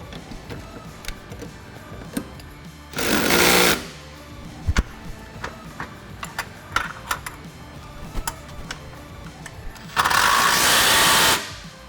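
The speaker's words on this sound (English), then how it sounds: "Next, we'll grab our impact with our 18mm socket and our 18mm wrench and tighten up all the hardware." Impact wrench with an 18mm socket tightening sway bar link hardware on a Can-Am X3 UTV, two loud sustained bursts of about a second each, separated by quiet ticking and clicking.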